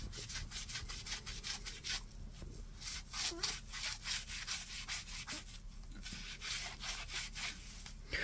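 Cloth wiping a white Nike Air Max Plus Triple White sneaker clean, a close, continuous rhythmic rubbing with quick back-and-forth strokes and no voices.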